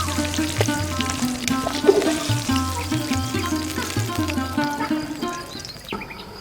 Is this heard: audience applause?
no